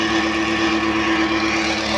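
A tractor engine stuck in a ditch runs at a steady idle, a constant droning hum with even tonal bands and no breaks, heard close and fairly loud with no voices.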